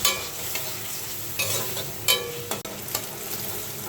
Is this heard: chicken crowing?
no